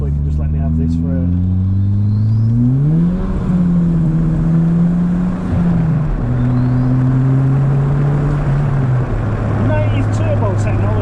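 An 80s Renault 21 turbo engine pulling and accelerating, a loud steady drone rising and shifting in pitch over several seconds, close up with someone talking over it.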